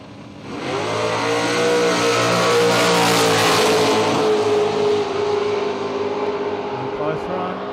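Naturally aspirated outlaw drag cars, a Ford among them, launch hard at Willowbank Raceway in Australia. Engines scream up through a loud rising rev and hold a sustained roar down the strip, with talk mixed in.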